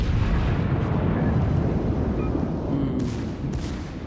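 Warship secondary guns fire in World of Warships, a dense, heavy rumble of overlapping blasts filling the whole moment at loud, close range.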